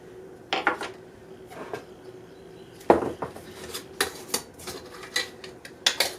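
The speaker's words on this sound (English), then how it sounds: "then what I do is I always cut mine up in little pieces" Softened, room-temperature butter is cut into little pieces with a knife for garlic Parmesan bread. Sharp taps and clicks on the board come in scattered bursts over a quiet background, with no talking.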